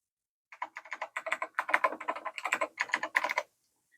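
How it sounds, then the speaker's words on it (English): Fast typing on a Wang Alliance 760 terminal's mechanical keyboard, reminiscent of an IBM Model M but not buckling spring, with dense clacky keystrokes in steady bursts for about three seconds, alone and close. "I do believe this is a mechanical keyboard"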